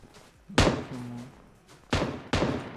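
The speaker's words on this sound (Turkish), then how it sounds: "Şu silah sesleri niye böyle?" Gunshots in a battle royale video game on an icy map, three sharp loud cracks spaced apart, each with a short decaying tail over a quiet background.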